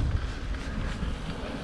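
Steady wind rumbling and buffeting against the microphone while mountain biking, loud and continuous with no other sounds.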